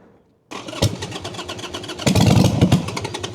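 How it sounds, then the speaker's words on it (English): A 2005 Harley-Davidson Sportster Bobber that is getting no fuel, its starter cranking the V-twin in rapid rhythmic bursts after a short quiet moment, the chugging turning louder and more insistent but never catching. "We're not getting any fuel to the engine right now."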